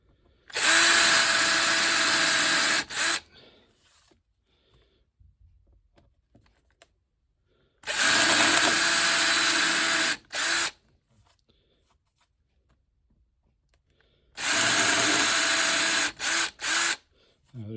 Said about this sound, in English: incrementally with a little bit larger drill bit